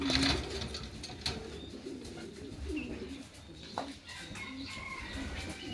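Racing pigeons of a Johnson bloodline coo and call around a loft, with scattered fluttering and occasional clucking-like notes over a faint, steady outdoor background; no one speaks.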